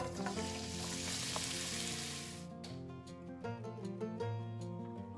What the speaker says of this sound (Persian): توی تابه تفت بدید.